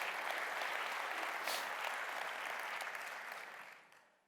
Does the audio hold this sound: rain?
no